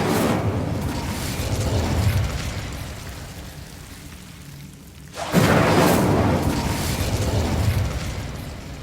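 An Incendio fire spell is cast in Hogwarts Legacy, bursting into a loud whooshing blast of flame after a quieter stretch of rumbling ambience, then sustaining a broad roaring crackle.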